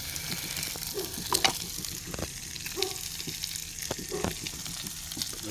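Black pudding and sausages frying in a pan on a Trangia stove during an outdoor brunch, a close, steady sizzle and crackle broken by occasional scrapes and stirring knocks.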